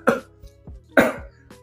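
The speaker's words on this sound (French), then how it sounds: "je tousse" Two harsh, close coughs about a second apart, each followed by a short throaty tail, with small breaths between them in a quiet room.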